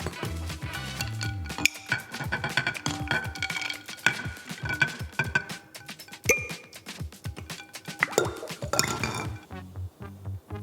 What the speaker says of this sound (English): Slowly pour boiling water over the cut line, then quickly submerge the bottle in ice-cold water.